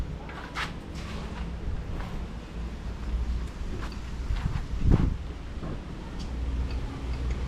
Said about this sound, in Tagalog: Ay, malakas na naman ang hangin, oh.